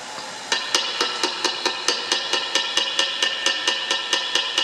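Steady rhythmic taps on a Fender Blue Junior III amplifier with a noise fault ring through it over a constant hiss, each knock sharp and evenly spaced, with no voices.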